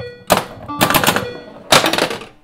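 A ball launched on a Bally Eight Ball Deluxe pinball machine, a few sharp thunks and rattling mechanical bursts close by, with a brief clatter between them.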